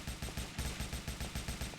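Rapid automatic gunfire from the video game Indian Bike Driving 3D, loud and close, rattles off in a fast, evenly spaced burst of shots with no talk over it.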